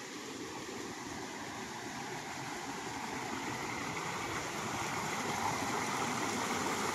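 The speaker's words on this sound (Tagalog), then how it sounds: "Lakas ng agos." Strong river current rushing past a rural farm lot, a continuous broadband roar of flowing water that stays steady and moderately distant throughout, with no voices.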